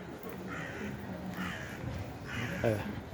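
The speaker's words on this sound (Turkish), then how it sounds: "Karga sesleri süslüyor" Crows caw in Kuzguncuk, Üsküdar, Istanbul, three harsh calls spaced about a second apart at moderate distance, over low outdoor street ambience.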